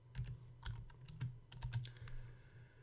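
Quick, uneven clicks of keys on a computer keyboard, close and quiet, coming in small bursts with short pauses between them.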